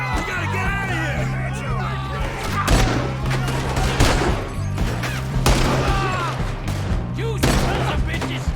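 Rapid gunfire from a shootout in the video game Red Dead Redemption 2, loud bursts and cracks repeating throughout over a steady background drone, with shouting and voices mixed in.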